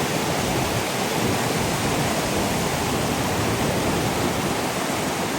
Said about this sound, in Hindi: भाई पानी बहुत तेज़ है यहाँ पे